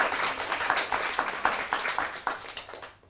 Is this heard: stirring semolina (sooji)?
no